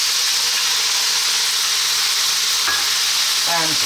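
Beef and onion fry in a pan with a loud, dense, continuous sizzle, close up, and a couple of brief utensil scrapes near the end.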